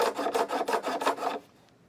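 A file is drawn back and forth to bevel the fret ends on a Martin Junior acoustic guitar, giving about seven even rasping strokes up close before stopping.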